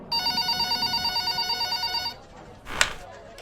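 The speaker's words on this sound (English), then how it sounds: "Detective Locke's phone" A telephone in a horror film rings in a loud, rapid electronic trill that repeats in even pulses for about two seconds, then stops, followed by a short sharp burst of noise.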